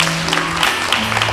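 Applause breaks out from the audience of a televised French spelling contest, a short burst of clapping for a contestant after a spelled word.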